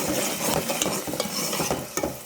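Blended tomato paste being stirred into hot oil in a pan, with soft scraping strokes and a light sizzle beneath, a few distinct clinks of the spoon, close and moderately loud, with no voices.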